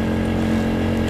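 A Zipmanic 50 motorcycle, a 50cc bike with foot shifting and four gears, runs with a steady, close engine drone that holds at an even level throughout.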